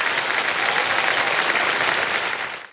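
A quiz show studio audience bursts into dense, loud applause that holds steady for nearly three seconds before quickly tapering off at the end, with no voices over it.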